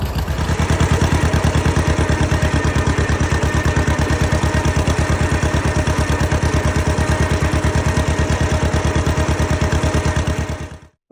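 A 1938 John Deere L tractor engine runs steadily after being hand cranked, a loud, close, rapid chugging beat that holds even for about ten seconds before cutting off abruptly.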